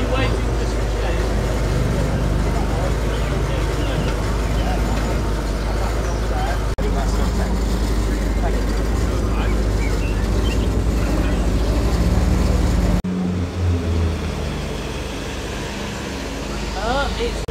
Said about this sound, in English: Got a Mustang late arrival as the E36 Cabriolet departs